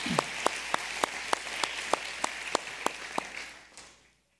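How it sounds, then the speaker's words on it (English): Audience applause in a church service, a steady wash of many hands clapping with a few sharp, regular claps standing out, fading away near the end. "would you just give a hand clap of appreciation for them?"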